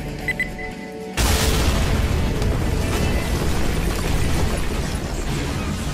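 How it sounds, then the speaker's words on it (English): A big gunpowder explosion at a guardhouse in a steampunk game, a sudden loud boom after a short quieter lead-in, followed by a sustained roaring rumble that stays loud to the end. "Well, that was a rather big bang."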